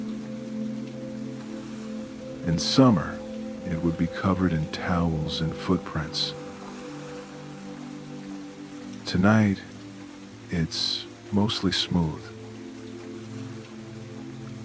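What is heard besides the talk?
rain falling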